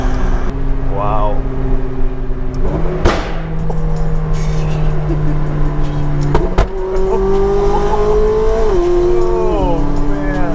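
A turbocharged supercar revs and accelerates very loudly from inside the cabin, its engine note climbing through rising gear pulls and shift drops, while excited passengers talk and exclaim over it.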